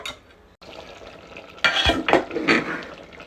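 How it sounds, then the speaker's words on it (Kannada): A pot of kushka (ghee) rice bubbles on the stove, with soft irregular bursts of bubbling and a few louder splutters close by. "ನೋಡಿ ಕುದೀತಾ ಇದೆ"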